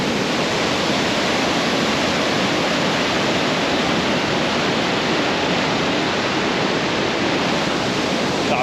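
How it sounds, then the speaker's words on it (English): A waterfall beside a campsite on Minnesota's Superior Hiking Trail pours in a loud, unbroken rush that holds steady throughout, with no talking. "Alright, goodbye waterfall."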